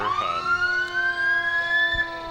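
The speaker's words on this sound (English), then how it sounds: "a little hard to talk over all the sirens at this part" A siren wails upward and holds a high rising tone, loud and nearby at a street parade, with traffic rumble underneath.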